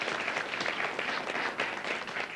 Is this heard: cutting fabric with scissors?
no